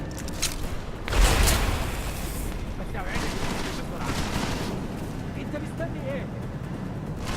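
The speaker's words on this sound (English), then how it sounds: "Oh, that's a grenade." A grenade goes off in the Deus Ex video game: one heavy, booming blast about a second in, followed by a sustained rumbling wash of gunfire and action noise.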